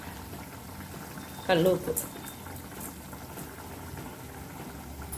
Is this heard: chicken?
no